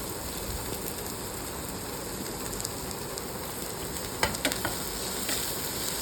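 Carrots and other vegetables stir-frying in oil over a high flame, a steady dense sizzle throughout with a few sharper crackles and clinks near the end, no voices.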